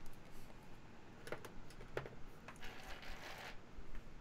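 Typing on a mechanical keyboard with the spacebar giving a low thud: a quiet run of scattered clicks and soft knocks, close up and faint.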